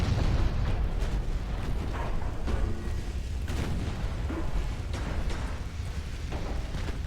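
Naval battleship guns booming in the Ultimate Admiral Dreadnoughts game, set in a 1900 British campaign, form a dense rumble of overlapping low blasts and bursts that continues steadily for several seconds.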